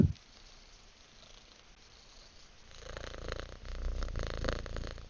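A cat's soft, low rumbling purr, very close and quiet, growing steadier and a little louder after a near-silent start.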